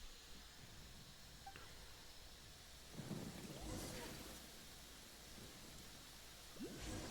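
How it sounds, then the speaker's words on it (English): A thunderstorm plays in the video game Genshin Impact. Faint, steady rain hiss carries throughout, with two low rolls of thunder rumbling in the distance. "Lightning storm!"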